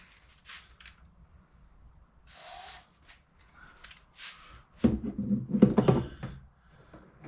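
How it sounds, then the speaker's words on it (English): Small metallic clicks and scrapes come from a bolt being loosened and pulled out during a car stereo install, scattered light taps building to a louder cluster of rattling handling noises near the end. "So since I already started that bolt, I'll just pull it out. Well, I gotta loosen it up."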